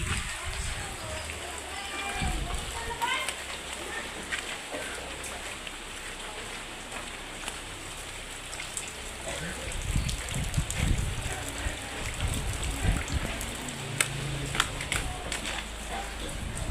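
Heavy rain pours down steadily for the whole stretch on an afternoon in the Philippine countryside, a dense hiss with scattered spatters, while people talk over it.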